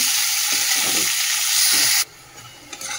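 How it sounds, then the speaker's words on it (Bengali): Sliced onions fry in oil until browned, giving a loud, dense, steady sizzle for about two seconds before it abruptly drops to near quiet with a few faint clinks. "চলো পেঁয়াজটা এই যে লাল করে ভেজে নিই"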